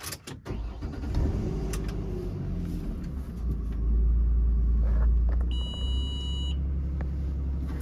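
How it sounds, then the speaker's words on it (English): A truck's engine cranks and catches, settling into a close, deep idle rumble, and an electronic beep sounds for about a second as the engine runs. "All right, going to go ahead and start the truck."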